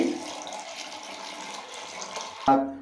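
Water from a mug splashes and runs steadily over a water can during home cleaning, a continuous close pour that ends with a sharp clunk.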